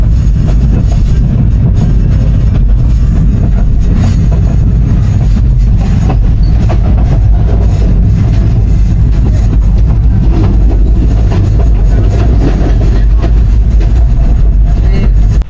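Train running through Pahartali station in Chittagong, a loud continuous rumble of wheels and carriages with steady rattling clatter throughout, heard from on board.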